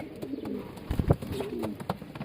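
Pigeons cooing at a pigeon farm, several soft throaty coos repeating close by with a few brief rustles and bumps in between.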